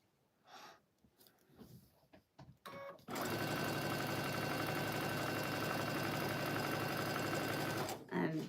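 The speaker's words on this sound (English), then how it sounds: "sewing 1/4 inch. And so we're going to do that 4 times right here." A sewing machine stitches quilt pieces along a quarter-inch seam in a steady, even mechanical whir that lasts about five seconds, after brief fabric handling and breathing sounds.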